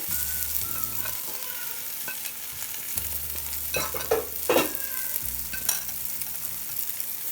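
Fried chicken pieces sizzle and fry in a pan with curry leaves while being stirred for Kerala-style chicken macaroni, a steady close frying hiss with occasional louder crackles and spatula scrapes, no talking.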